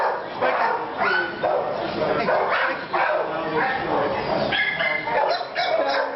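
A dog barks and yips repeatedly at close range in an animal shelter setting, with rapid, uneven bursts filling the whole stretch.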